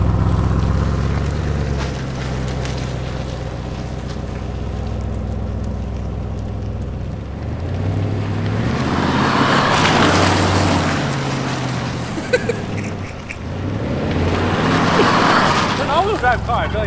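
An Audi RS6 Avant makes a U-turn, its engine and tyre noise rising and falling in two broad surges, with people talking inside the cabin throughout.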